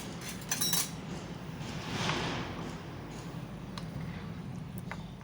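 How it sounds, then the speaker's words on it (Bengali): A spoon stirs soaked soybeans in warm water, giving faint, scattered clinks of metal against a bowl over a quiet background, with a louder clatter near the start. "এবার একটা স্পুন দিয়ে আমি সয়াবিনটা ভালো করে নেড়ে নেব"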